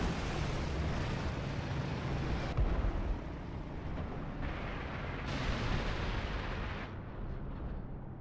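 Anti-aircraft flak bursts over an airfield in Tactical Air War, a constant rumbling barrage of thuds and booms that continues at a steady loudness with a few sharper cuts.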